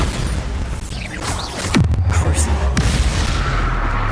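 A Bombarda blast spell from Hogwarts Legacy, a booming impact that erupts near the middle and leaves a sustained low rumble behind it, with other spell effects faintly around it.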